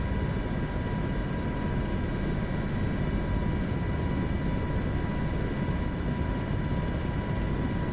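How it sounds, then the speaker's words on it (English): Steady drone of a yellow helicopter in flight fitted with extra fuel tanks, heard from inside as a continuous broadband roar with constant engine hum and rotor noise throughout, no voices. "we're in a yellow helicopter"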